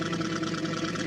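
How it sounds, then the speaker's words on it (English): Custom V12 race car engine in a driving game, a steady buzzing hum with fast rhythmic pulsing, held at an even level for about a second. "This does not sound like a default engine sound. It is actually sounding like a race car"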